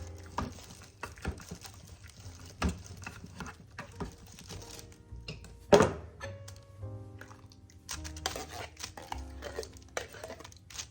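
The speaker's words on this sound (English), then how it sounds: "I'm going to take my apples and I'm going to cut them up so they're just a little bit smaller." A knife chops canned apples into smaller pieces inside the can, giving scattered dull thunks and metallic taps at an irregular pace, close and fairly quiet, with one louder knock midway.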